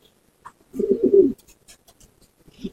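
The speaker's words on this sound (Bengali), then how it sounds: "এটা গান্ডার পায়রা বলে, আচ্ছা লাল রেসিং" Racing homer pigeons in a loft give a short, close, low coo, followed by soft scratching and a second coo beginning at the end.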